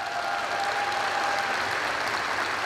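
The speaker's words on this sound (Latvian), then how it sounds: "Aplausi!" Audience applause at a State Police founding anniversary celebration in Latvia, a dense, steady clapping wash with a faint tone running through it, continuous throughout.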